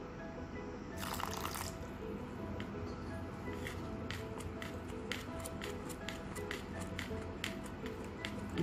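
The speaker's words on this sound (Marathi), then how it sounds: "आपण थोडं पाणी पण घालू" Water being poured into a roasted sattu flour mixture for a sweet dish: a brief splashy pour near the start, then quiet scattered soft clicks and stirring taps.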